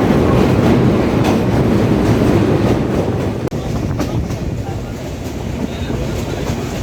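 The Benapole Express rumbles across a rail bridge over the Karatoya river, a loud continuous roar with rhythmic wheel clatter and one sharp knock midway.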